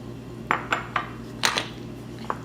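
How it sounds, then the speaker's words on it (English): Bread dough is mixed in a bowl with melted butter ahead of an artisan loaf, giving a few separate clinks and scrapes of utensil against bowl, moderately close, with no talking. "Just mixing it right in the middle like that."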